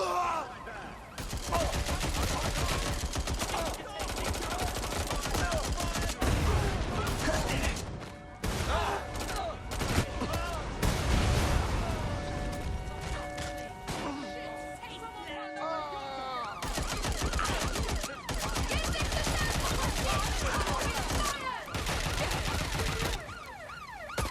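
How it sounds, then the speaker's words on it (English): Rapid bursts of gunfire from the video game Watch Dogs Legion, dense volleys overlapping with wailing police sirens and city noise, loud and sustained with brief lulls, someone talking over parts of it. "Hey, someone shooting."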